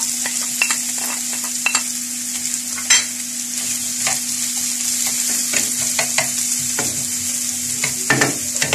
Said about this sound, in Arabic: غادي ندير فيها شويه ديال الزيت باش تسخن، وغادي ندير البصله تشحر شويه